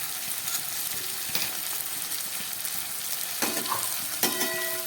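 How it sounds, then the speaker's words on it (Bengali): Small river fish sizzling with spices in a pan, a continuous soft frying hiss up close with a few light stirring clicks and scrapes, no voices. "মাছগুলো খুব সুন্দর ভাজা হয়ে গেছে মশলার সঙ্গে।"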